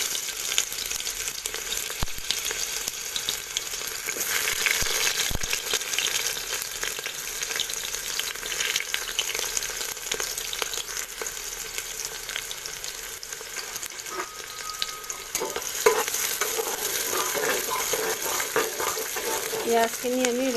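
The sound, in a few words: raw onions frying in mustard oil in a pressure cooker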